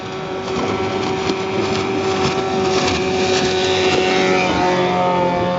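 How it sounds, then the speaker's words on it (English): A 1960 West Bend 12 horsepower outboard motor running at a steady drone with a constant tonal whine, close and loud throughout without pauses or talking. "today I have a motor that is one of my favorites. It's a 1960"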